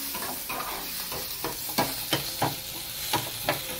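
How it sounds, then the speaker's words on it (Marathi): Onion frying in hot oil after garlic for a fish curry, a steady close sizzle with several brief scraping stirs of a spoon, moderately loud and without voices. "त्याच्यानंतर आपण कांदा शिजून घेऊ"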